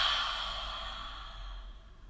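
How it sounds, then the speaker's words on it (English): One long, deep exhale out through the mouth after a breath in through the nose during a yoga session, a soft, close whoosh of air that slowly fades. "inhaling through the nose and exhaling out through the mouth"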